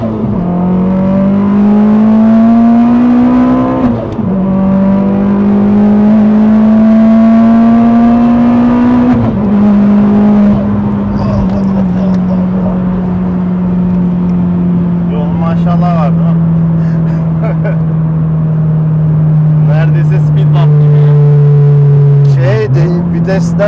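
A 500 hp Opel Astra GTC accelerates at full throttle, its engine droning loud and close with a rising pitch that drops sharply at each of several gear changes, with engine noise from inside the car and short bits of voice.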